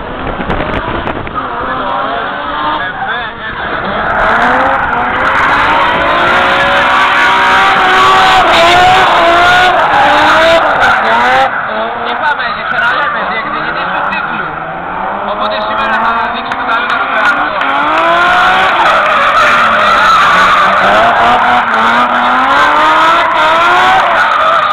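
A Nissan 200SX drift car runs at a drift event, its engine revving and wavering while the tires screech in long slides, with a commentator talking over it throughout.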